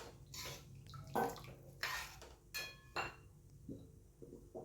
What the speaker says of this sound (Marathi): आता यामध्ये आपण पाणी घालून घेणार आहोत